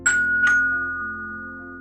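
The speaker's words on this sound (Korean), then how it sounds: "초인종을 누르는 손가락 소리도 들렸어요" A doorbell at an apartment door is pressed twice in quick succession, giving two bright chimes whose ringing tone lingers and slowly fades into quiet.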